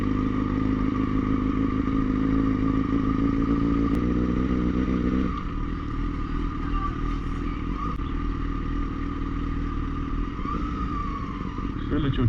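Motorcycles roll slowly through a campsite near water on a touring trip around Lithuania, a steady close engine drone with harmonic hum throughout, dropping slightly midway, while people talk over it.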